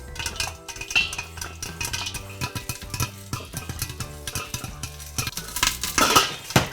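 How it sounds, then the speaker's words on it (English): A pot of popping Tokyo-mix popcorn being shaken on the stove, a continuous rattling clatter of metal and kernels with quick irregular pops and knocks, close and busy throughout, growing brighter toward the end. "You may need to just shake the pot a couple of times"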